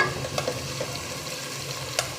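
Tomatoes cooking in a pan for fish-head sinigang with miso, a quiet steady sizzle with a few light stirring and crushing clicks, no voices.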